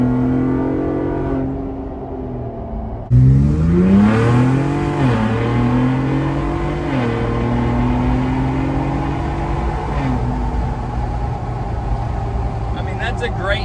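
Ford Bronco Raptor fitted with a CPE downpipe and high-flow cats, engine revving and settling back repeatedly with a deep, steady exhaust tone, close and fairly loud.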